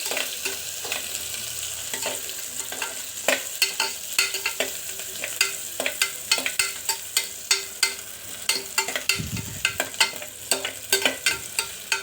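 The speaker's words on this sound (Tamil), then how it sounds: "இப்போ இதில் நம்ம வெங்காயத்தை சேர்த்துக்கலாம்." Onions sautéing in a pan for Tamil-style rice and dal, a steady sizzle under frequent sharp scrapes and taps of a spoon stirring, close and fairly loud, with no voices.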